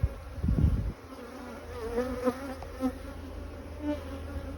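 A strong honey bee colony buzzing steadily in and around its hive in spring, a close, continuous drone with a brief thump at the start and no talk.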